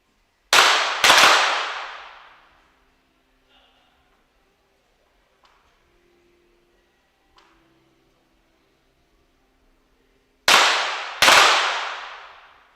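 Pistol shots at a women's pistol shooting competition in Osijek: two pairs of sharp, loud cracks, each followed by a fading ring, separated by a long quiet stretch with faint small noises.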